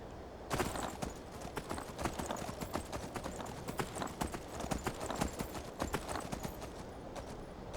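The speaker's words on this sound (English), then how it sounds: "riding a horse is really fun" Steady, rhythmic clip-clop of horse hooves at a trotting pace in the video game Skyrim, close and fairly loud, continuing without pause.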